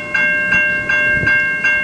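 A CN Shoreline freight train starts to roll at the Mill Street railroad crossing in Ecorse, Michigan, with steady rumble and a sustained ringing crossing bell under rhythmic clanking wheel beats, close and loud, no talking.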